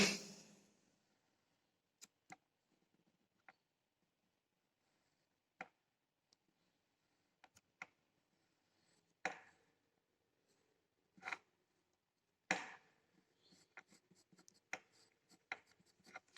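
Chalk or marker strokes from a lecturer drawing a diagram on a board during a power engineering lecture, heard as quiet, sparse scratches and taps with long pauses, growing into a quicker run of short strokes near the end.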